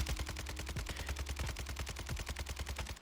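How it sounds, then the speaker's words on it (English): Rapid automatic weapon fire in Warzone 2, a continuous burst of evenly spaced shots at a fast steady rhythm lasting the whole stretch, moderately loud and close, with no talking. "And when I start shooting"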